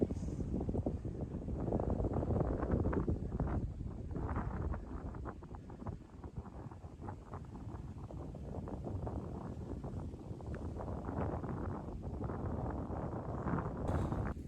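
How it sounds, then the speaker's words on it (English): Heavy wind roars continuously against the mic on the Cotswold Hills south of Winchcombe, rising and falling in gusts throughout, loud and close. "It's very windy."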